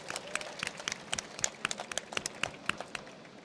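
A small audience claps at a presentation, scattered individual hand claps in a loose irregular patter, fairly faint and with no talk.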